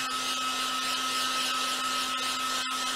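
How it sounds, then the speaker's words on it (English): A power paint stripper heat gun blows continuously, a loud, steady airy whoosh with a fixed motor hum, close up and uninterrupted apart from a brief dropout near the end. "You can see it's a power stripper."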